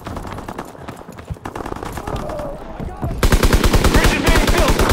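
Gunfire on a World War II battlefield in Call of Duty WWII: scattered rifle shots early, then a loud, rapid machine-gun burst of evenly spaced shots that dominates the final seconds, with shouted voices in the background.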